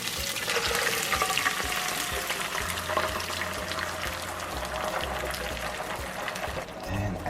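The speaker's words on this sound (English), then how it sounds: "And now just let it fry up till it's almost a little dry." Beans frying in garlic-flavored oil give off a steady, dense sizzle that holds evenly throughout, with a faint low hum underneath.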